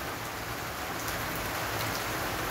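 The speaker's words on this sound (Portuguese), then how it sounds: "Chuvinha bem calma e frio." Steady, soft, cold rain falling continuously, a gentle even patter on surfaces with no voices or thunder.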